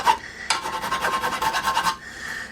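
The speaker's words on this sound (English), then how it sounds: "Clean off the burrs on the edge of the holes." Short scraping strokes of a deburring tool clean the edges of freshly tapped holes in a Weber 34 ICT carburetor on a VW, a close, rasping burst followed by a quieter scrape.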